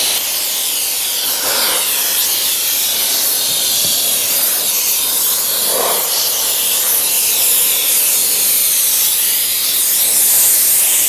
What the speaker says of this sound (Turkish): Bu makinede arkadaşlar basınç çok önemli.